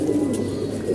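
A flock of racing pigeons coos close by, with low, soft throaty calls that repeat and overlap over a steady background murmur.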